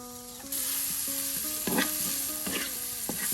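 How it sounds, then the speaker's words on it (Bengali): Bitter gourd (karela) fries crisp in oil for a Bangladeshi village iftar. A steady hiss of sizzling starts abruptly and carries on with a few bursts of spattering, over soft background music. "দেখুন অল্প কিছু সময়ের মধ্যে কিন্তু এই যে করলা ভাজি প্রায় হয়ে গেল। দেখুন একদম মসমসে ভাজি করা হবে।"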